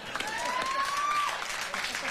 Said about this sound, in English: Sure, you can applaud that, sir.